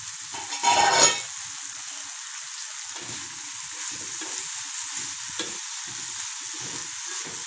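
Green chillies frying in a pan, with a continuous hiss of sizzling oil, a louder burst early on and soft intermittent stirring scrapes.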